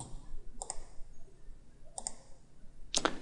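Crisp mouse clicks while working in Inventor CAD software: a quick double click, another double click about a second and a half later, then a sharper, louder click near the end, close and alone without talk.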